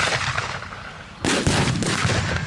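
Mortar fire at an outdoor WWII battle reenactment, with a loud, rumbling boom partway through that merges with ongoing blast noise and outdoor wind.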